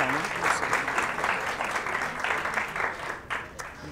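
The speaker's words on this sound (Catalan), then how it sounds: "No passa res si li fem un aplaudiment, no?" Studio audience on a Catalan word quiz show applauds the contestants, a brief burst of brisk, even clapping from a small crowd, close and lively before it tapers off.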